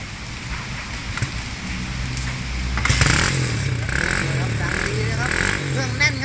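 A GPX DP125 motorcycle idles and revs with a steady low engine note and a rise in intensity midway, while someone talks over it.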